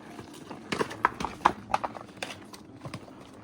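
A horse's hooves clip-clop over a rocky trail at Pucker Pass near Upper Falls, Wyoming. The close, uneven strikes clatter on stone, with a few sharper knocks as the horse steps over rocks.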